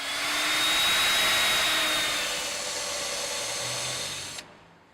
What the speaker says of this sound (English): The router requires either a 12mm cutter and 18mm guide bush combination